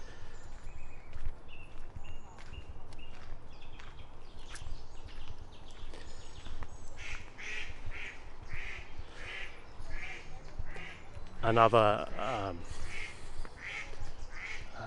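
Ducks quacking in a park, stirred up by dogs brought in by visitors, a run of short quacks in the middle distance with a louder burst near the end, under a man's brief speech.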